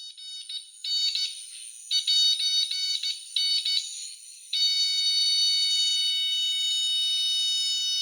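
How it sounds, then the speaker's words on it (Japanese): A high electronic beeping alarm pulses in short repeated tones, then settles into a steady continuous tone, clear and fairly loud. "車がバックをする時になんかこれに似たような音がしますよね"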